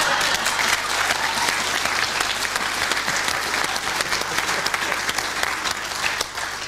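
A studio audience at a British radio-style comedy panel game claps warmly and steadily, a thick, even wash of applause filling the whole stretch without letup.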